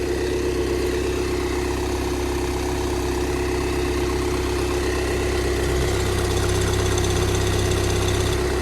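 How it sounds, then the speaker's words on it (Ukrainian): A warmed-up 2.0 TDI diesel engine in a Volkswagen Passat B7 with 140,000 km idles steadily and evenly, a loud constant rumble with a faint knocking texture, and no voices. "двигун вже прогрітий,"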